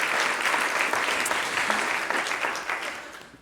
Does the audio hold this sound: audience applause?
yes